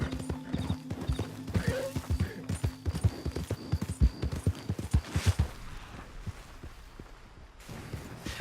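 Horse hooves clip-clop in a fast, steady gallop in Red Dead Redemption II, loud and close for most of the stretch before thinning out near the end, with an occasional whinny.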